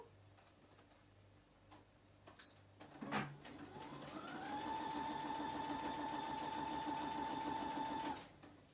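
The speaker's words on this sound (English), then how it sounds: "I'm going to use my sewing machine just now." A sewing machine starts up and runs steadily, a fast even whirring stitch with a rising motor tone that stops abruptly; a click precedes it.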